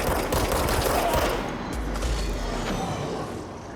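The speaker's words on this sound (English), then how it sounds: "A lot of rockets, man." In the video game Control, rockets fire and explode in a rapid, dense burst of booms and crackles, loud and continuous before easing slightly at the end.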